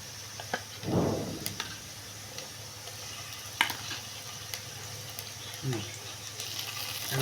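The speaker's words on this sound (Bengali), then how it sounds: "এখন আরও ফ্রাই করা হবে, ভালো করে লাল লাল করতে হবে ভেজে" Ginger garlic paste with cumin frying in oil gives a soft, steady sizzle, with occasional spatula scrapes and clicks against the pan.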